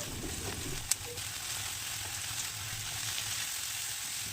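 Chhana cottage cheese filling with spices frying in a pan, a soft steady sizzle with a brief scrape of stirring near the start.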